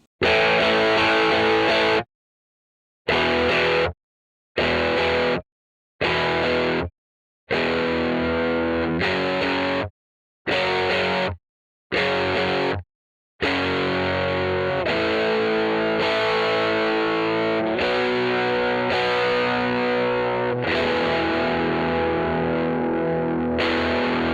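Distorted electric guitar chords recorded with a Shure SM57 and a Sennheiser MD 421, the 57 slowly turned down, full, thick tone, broken by several short pauses early on, then sustained strumming continuing steadily to the end.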